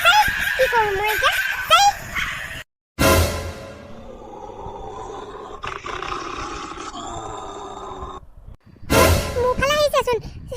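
Cartoon dogs chasing in an Assamese animated scene: loud, growling barks and roars burst out at the start and again near the end, broken by a short silence, with a lower snarling stretch and voices speaking in between.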